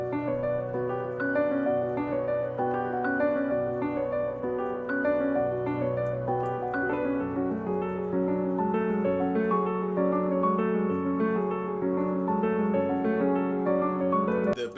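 A piano pattern in FL Studio plays dropped down five semitones, its lower, darker chords and melody repeating steadily with no one talking.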